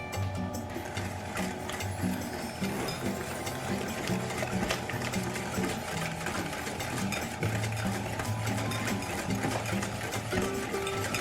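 An electric mixer whisks egg whites with vanilla and coconut, giving a continuous mechanical whir with rattling, clicking texture at moderate, close volume.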